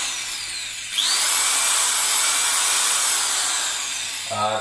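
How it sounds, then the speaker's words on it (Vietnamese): A Hitachi DV18V hammer drill, a model with two speeds for wall and concrete drilling, starts up and runs at a steady high-pitched whine for about three seconds before winding down. "Thì mình đã vừa giới thiệu với các bạn về dòng máy khoan DV18V chính hãng của Hitachi Nhật Bản."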